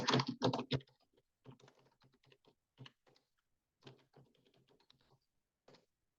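Quiet typing on a computer keyboard as remedy names are entered, starting with a quick flurry of louder keystrokes, then sparse irregular taps and short clusters with gaps of silence between.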